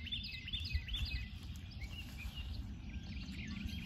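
Faint birdsong chirps and twitters over a low rumbling outdoor background, scattered calls throughout with no talking.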